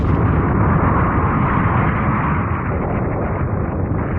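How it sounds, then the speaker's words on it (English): A continuous, loud, roaring rumble of explosions in an anime episode, dense and sustained without a break. "I love the sound of explosions."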